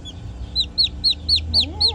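Chick peeping in quick repeated high chirps, about six evenly spaced calls close by, with a low voice murmuring underneath near the end.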